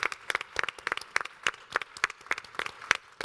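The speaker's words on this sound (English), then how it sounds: "let's give CNCS staff, ASN staff, and Brittany a round of applause" Scattered hand claps from a small audience applauding staff members, a sparse, uneven patter of individual claps close by with no voices.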